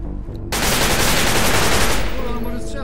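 Rapid automatic gunfire in Garry's Mod SCP Breach erupts loudly after a brief quiet moment and keeps rattling in a dense, continuous burst until the end.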